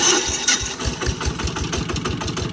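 A walking tractor engine, started with a power bank, runs with a rapid, even thumping chug, close and loud throughout.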